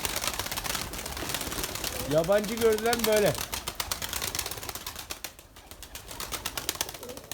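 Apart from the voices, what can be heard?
pigeons cooing and flapping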